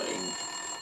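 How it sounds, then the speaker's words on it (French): An office desk telephone rings in Max Payne 2, a single short, bright electronic ring trill heard alone. "Winterson's phone was ringing."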